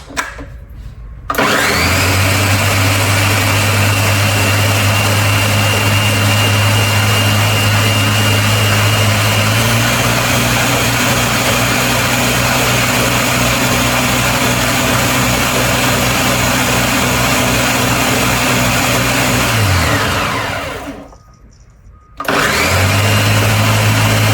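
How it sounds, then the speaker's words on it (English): A blender purees artichoke and spinach soup in a loud, continuous whir that runs steadily for about twenty seconds, spins down briefly, then starts up again. "Let's get this last batch blended."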